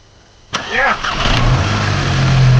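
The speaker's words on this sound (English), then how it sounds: "Start it up, Mr. Daniel." A VW Golf GTI engine cranks and catches with a sudden start, then settles into a loud, steady idle close by.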